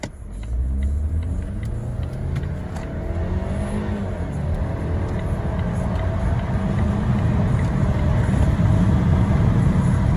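A Volvo Drive-E engine roars steadily, rising in pitch and loudness as the car accelerates hard from 0 to 60, heard from inside the cabin with no speech.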